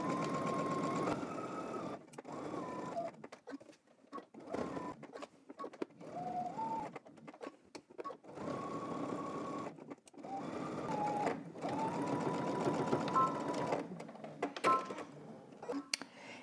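Sewing machine stitching a pocket flap on a pair of pants, fast buzzing runs of stitches in several bursts separated by short pauses, close and fairly soft, with a faint whine as the speed changes.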